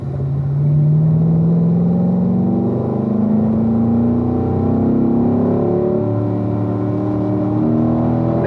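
A car driving through a corner on a racetrack, a loud continuous in-cabin engine drone with pitch rising and falling through gear and throttle changes, no talk.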